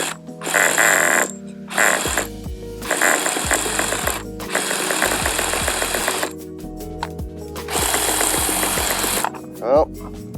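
A small RC car engine revs in repeated loud, buzzing bursts at throttle, cutting out between runs, with people talking in between.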